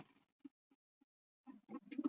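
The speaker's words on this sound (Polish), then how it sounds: "Kapitalny gołąb." An aging racing pigeon in a loft gives soft, low coos, a few isolated short notes, then a closer, fuller run of cooing at the end, faint overall with no talk.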